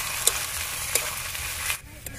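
Onion frying with ginger, garlic, green chilli and spices in a pan, a steady sizzle under repeated scraping stirs, a couple of sharp clinks of the spatula, then the sizzle drops quieter near the end.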